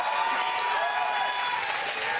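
An esports crowd at a European LCS Spring 2018 match between G2 Esports and Fnatic applauds and cheers steadily, a dense distant wash of clapping and whoops that carries through the whole moment.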